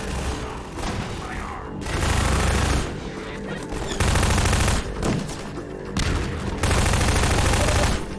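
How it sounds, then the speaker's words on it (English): Heavy gunfire in Half-Life 2, a shotgun firing, comes in loud repeated bursts separated by short quieter gaps. "This is a bad way to use the shotgun."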